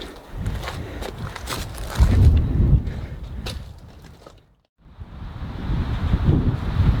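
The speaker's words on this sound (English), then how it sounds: "And the wind is on and off today, so it's going to be inconsistent, unfortunately." Gusty wind buffets the microphone at a cliff-side mining camp high on a mountain peak, roaring loud, easing briefly to near silence midway, then rising again into a steady rush.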